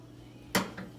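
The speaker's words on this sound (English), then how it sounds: "I want to stir just a little bit." A spoon knocks against a pot on the stove while something is stirred, giving one sharp metallic clink followed by a softer second tap, close and brief over a quiet background.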